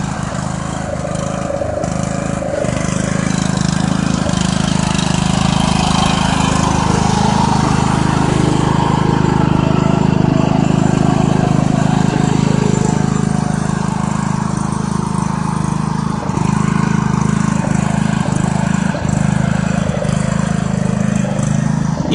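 A small tractor engine runs steadily with a low, continuous drone while children learn to drive it, the hum holding level throughout with brief dips and no voices.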